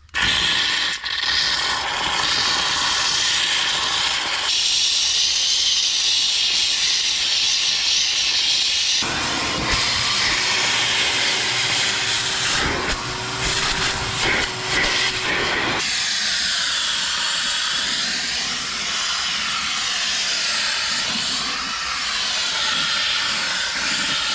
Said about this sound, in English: let's try some steam on this stubbornness